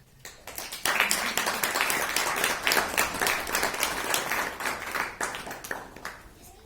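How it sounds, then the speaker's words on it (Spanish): Audience applause follows a poetry reading at a Spanish-language literary event, a dense, even round of clapping that starts abruptly and carries on at steady strength before tapering off. "Muchas gracias por los aplausos."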